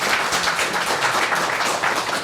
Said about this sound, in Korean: 이 도전 비즈원의 이강수 사장님부터 박수 한번 쳐주시겠어요?